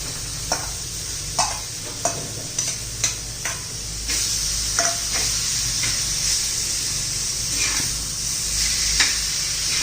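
Mashed roasted eggplant stirred into a pan with sautéed coriander: a few sharp spoon clacks against the pan at first, then a steady, fairly loud sizzle with occasional scraping strokes throughout.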